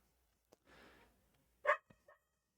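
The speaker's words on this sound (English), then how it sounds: "enjoy the sultry sounds of my dogs barking in the background" Dog barking indoors in the background, one short distinct bark followed by a couple of faint yips, with a breathy rustle just before and otherwise quiet.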